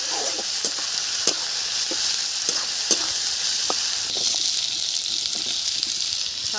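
Chopped onion hissing in hot oil tempered with cumin seeds, a dense steady sizzle punctuated by repeated sharp spatula clicks and scrapes, close up and with no voices.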